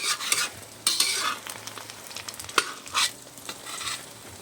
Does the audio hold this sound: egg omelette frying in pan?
yes